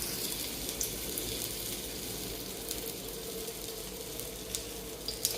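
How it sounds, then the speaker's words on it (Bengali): Potato pakora batter fries in hot oil in a kadai, giving a quiet, even sizzling hiss with a few faint crackles throughout and no voices. "এই যে কড়াইতে তেল গরম হয়ে গেছে, ছেড়ে দিচ্ছি।"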